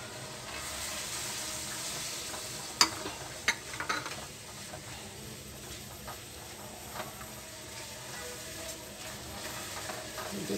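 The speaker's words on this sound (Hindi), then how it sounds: "थोड़ा भूनेंगे मसालों को।" Chili, salt, chaat masala, coriander and turmeric fry gently in a pan for fish curry, a soft, steady sizzle broken by a few sharp stirring clinks near the start, with no voices.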